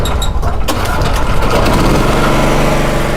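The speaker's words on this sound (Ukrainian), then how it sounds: "Хороша ідея бензогенератор." A petrol generator engine runs loud and close, a dense continuous drone with a steady rumbling throb and no pauses.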